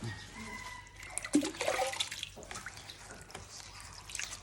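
Freshly picked vegetables being washed in water, with splashing, sloshing and dripping, close and uneven, with no talk.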